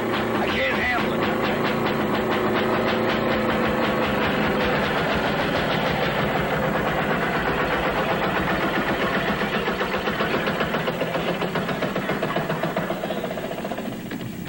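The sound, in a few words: train passing through tunnel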